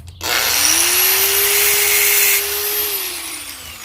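Power sander cutting a small threaded metal connector for pyrography tips, a loud steady whining grind that starts abruptly, holds for a few seconds, then drops slightly in pitch and tone as the cut eases off.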